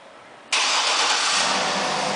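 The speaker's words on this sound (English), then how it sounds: "and the car starts right up" A 2008 GMC Yukon Denali AWD, started by remote start, catches abruptly and settles straight into a steady, loud idle that is close and continuous, with no talking.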